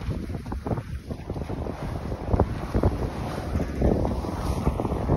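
Wind rushes over a sailboat under way, a continuous buffeting roar with gusty bursts and water splashing along the hull, no voices.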